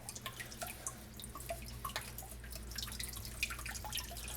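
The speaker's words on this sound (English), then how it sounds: "So, run some water over it." Water from a tap runs over a sharpening stone at a sink after honing a razor with a Mikawa Shiro Nagura, giving a steady soft trickle with scattered small drips and splashes, fairly quiet and close.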